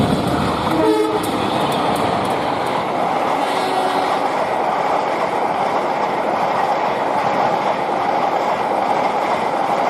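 Indonesian passenger train on the Pasar Senen–Jombang route rumbling past close by in a steady loud roar, with a short horn toot near the start and wheel clatter underneath.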